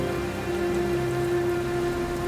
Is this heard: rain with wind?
yes